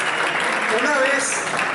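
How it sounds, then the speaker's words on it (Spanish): A short burst of audience applause at a climate change talk in a school hall, dense clapping from a crowd sustained at even loudness, with a faint voice briefly audible beneath it. "recíbanlo con un fuerte aplauso"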